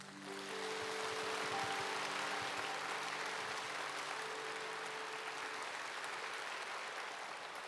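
A church congregation at a Wednesday morning service claps to welcome a pastor's family, with continuous, even applause and a faint sustained tone beneath it.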